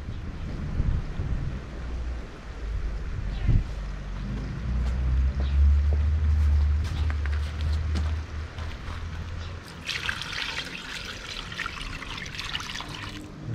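Water is poured into a pot of stewing potatoes and goat meat, making a steady close trickling rush with breathy, wind-like hiss and a brighter splashing burst toward the end.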